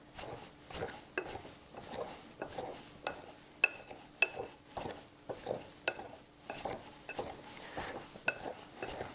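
Butter being cut into flour for Irish currant scones with a pastry cutter, a steady run of close, rhythmic metallic clicks and scraping thuds against the bowl, repeating about twice a second with no talking.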